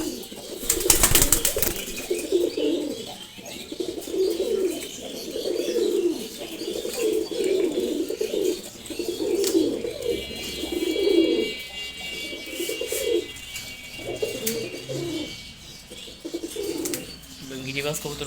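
Male racer and Giribaz pigeons coo in a steady repeating rhythm close by, with a burst of wing flapping near the start and faint background noise.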